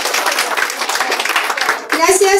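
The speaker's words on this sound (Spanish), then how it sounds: "Fuerte, fuerte, fuerte ese aplauso por su participación." Audience at a maize festival queen coronation clapping for a contestant, close brisk handclaps mixed with talking voices and children, a loud amplified voice cutting in near the end.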